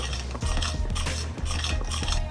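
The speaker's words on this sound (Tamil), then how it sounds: "இப்போ இதெல்லாம் நல்லா மிக்ஸ் பண்ணணும்." A spoon stirs and mixes thick rabdi in a metal pan, with steady scraping and clinking strokes close up and no talk.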